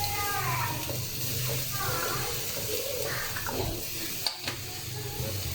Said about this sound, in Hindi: अब जितना हमें ऑयल चाहिए हम ऑयल डालेंगे।